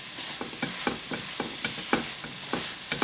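Masala paste for chicken curry sizzles loudly in a hot pan while a utensil scrapes and stirs it in a steady rhythm of repeated strokes, close and continuous.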